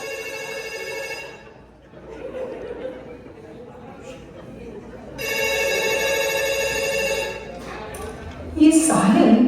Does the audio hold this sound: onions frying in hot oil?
no